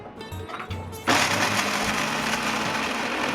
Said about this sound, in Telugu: ఎక్కడా ముక్కలు లేకుండా ఇలా కొబ్బరి కూరలా అయినట్లు మిక్సీ చేసుకోండి